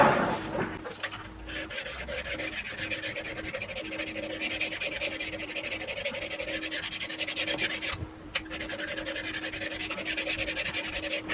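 Steady close rasping scrubbing of 1000 grit paper hand sanding a lathe part, continuous rhythmic strokes with a faint constant machine hum underneath and one brief pause.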